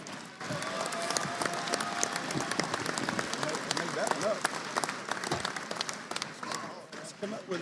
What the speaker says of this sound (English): one more round of applause for all of our seniors